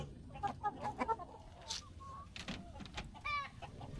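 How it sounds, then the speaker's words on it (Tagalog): Chickens cluck in short, irregular bursts at a home, with a few sharper calls rising above the low background clutter, moderately near and fairly quiet. "Anong klaseng manok?"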